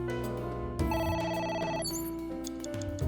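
A telephone rings in the video game AI: The Somnium Files, a steady electronic ring with stacked harmonic tones that changes pattern partway through, heard alone at moderate volume over game music.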